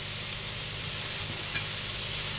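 Chopped mushrooms cook in a pan, releasing their liquid with a steady, soft hiss and gentle sizzle that continues evenly throughout, close by with no talking.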